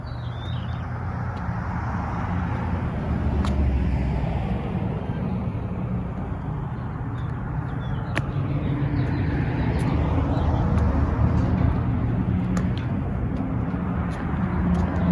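Steady road traffic drones past a garden, a continuous low rumble of cars and heavier vehicles that swells and fades slightly but never stops across the whole stretch.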